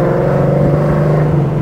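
Supercharged 2021 Ford Mustang GT V8 with an ESS supercharger, around 800 hp, droning steadily under acceleration, a loud close engine tone holding even throughout.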